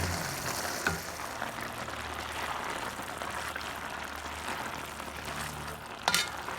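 Pasta noodles are stirred through a sauce in a wide round Le Creuset 6.3/4-quart Dutch oven, giving a steady soft sizzle and wet churning, with a sharper scrape or clack near the start and again near the end.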